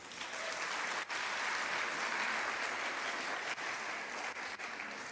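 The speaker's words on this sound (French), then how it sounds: "on peut les applaudir" A church congregation applauds, a dense, even clatter of many hands that fills the space for several seconds and stays steady to the end.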